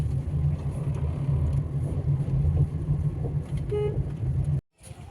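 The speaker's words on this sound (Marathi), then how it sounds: "आता गाडी ड्राईव्ह करत आहे" A family car rolls along a road with a steady low engine and road rumble heard from inside the cabin, a short horn-like tone near the end, then an abrupt cut.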